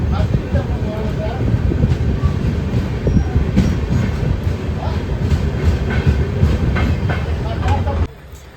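A train rumbles loudly along the rails with steady clattering and occasional squeals, the noise cutting off abruptly near the end.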